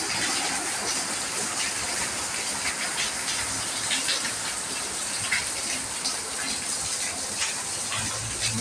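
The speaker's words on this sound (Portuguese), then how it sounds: "Neste momento cai uma forte chuva na cidade do Açu" Heavy rain pours down on the town of Açu in Rio Grande do Norte, Brazil, a steady, loud broadband hiss of falling water with scattered patters, unbroken from start to end.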